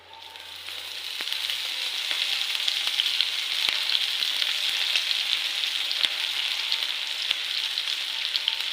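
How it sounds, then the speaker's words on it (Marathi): Onion sizzling steadily in a few spoonfuls of oil, a continuous bright frying hiss with occasional faint clicks of a spoon against the pan, no voices. "आता अजून थोडासा तेलामध्ये कांदा तळून द्यायचा आहे"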